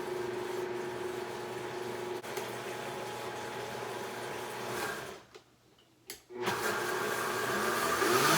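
A blender whirs steadily as it mixes gluten-free oat flour and water into crepe batter, a moderate motor drone that cuts out briefly twice and then resumes, rising slightly toward the end.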